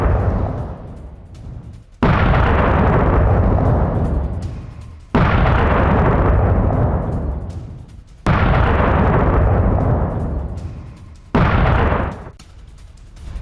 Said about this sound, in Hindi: पैट्रियट सिस्टम ने कई मिसाइलों को इंटरसेप्ट किया है।